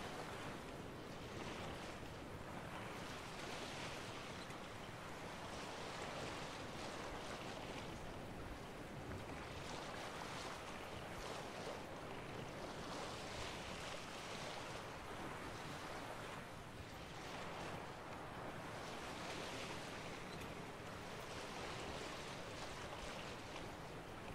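Open-sea surf from The Witcher 3: Wild Hunt, with waves washing steadily around a small sailing boat and wind rushing over the water, forming a loud, continuous wash that swells and eases in slow rolling surges.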